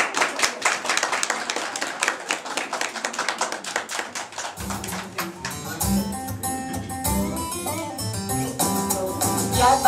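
A children's puppet-show audience claps in quick, rhythmic unison to welcome Kolobok, loud and close, before music starts up and the clapping continues over it.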